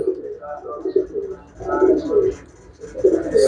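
Domestic pigeons, a group of young birds kept for sale, coo in repeated low throaty phrases, close and fairly loud, with brief pauses between bursts and faint background noise.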